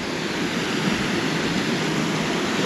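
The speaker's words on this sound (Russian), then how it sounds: "Маленький Ниагарский водопадик с чистейшей, красивейшей водой." A small waterfall of clear water at a beach in Makopse, Lazarevskoye, in December: a steady, dense rushing hiss of falling water with no voices.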